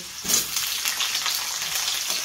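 Large-cut onion pieces dropped into hot oil with fried garlic, a loud burst of sizzling at the start that settles into a continuous crackling fry, close and without talk.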